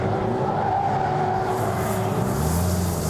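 A Toyota MR2 championship race car spins at Silverstone International, giving a steady, loud engine roar with tire skid noise throughout, no talk.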